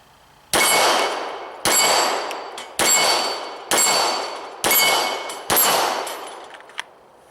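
Six loud, sharp pistol shots from a Glock 17 Gen 4 9mm strike a steel target at 7 yards, each ringing clang decaying for about a second before the next, evenly spaced and with no talk.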